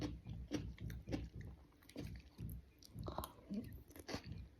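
Close, steady chewing of Thai rice noodles with lots of vegetables, soft wet bites in a regular rhythm with faint crunches, quiet and without talk.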